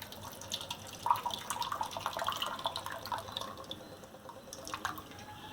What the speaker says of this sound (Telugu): ఇప్పుడు వాటర్ వేద్దాం కొంచెం.